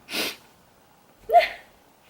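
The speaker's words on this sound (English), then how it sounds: "And I have to sneeze." A sharp breathy intake followed by a quick, forceful sneeze, close and fairly loud, with silence in between.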